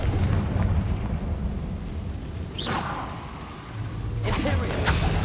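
The Confringo fire spell in Hogwarts Legacy goes off as two whooshing blasts with booming bursts over a rumbling game soundscape, and a voice can be heard speaking briefly.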